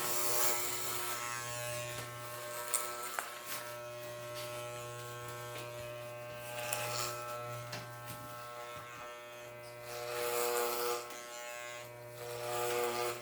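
Electric hair clippers buzz steadily and closely while cutting a boy's hair to three-quarters of an inch all over, the motor whine shifting slightly in pitch as the blades move through the hair.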